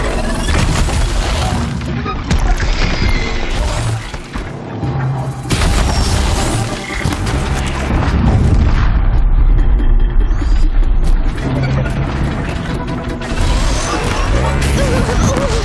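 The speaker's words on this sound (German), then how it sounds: "Die Explosionspfeile scheinen ganz gut einzuschlagen bei dem Vieh." In Horizon Zero Dawn, explosive arrows strike a large machine creature, producing repeated heavy booms and crunching impacts over a dense, loud game soundscape with rumbling low end throughout.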